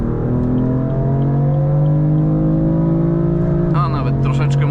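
A 2017 BMW M4 with DKG dual-clutch gearbox and 431 hp accelerating hard from 100 to 200 km/h, its engine note climbing steadily and loudly before a quick upshift drops the pitch and the rise resumes.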